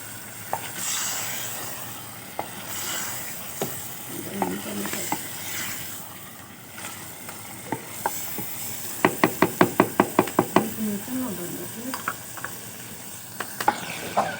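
Potatoes go into a frying chicken aloo korma in a village kitchen. A soft sizzle runs under repeated scraping and stirring, with a burst of rapid knocking of the spoon against the pot midway. No one speaks.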